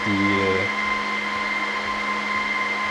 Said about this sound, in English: the servers also power up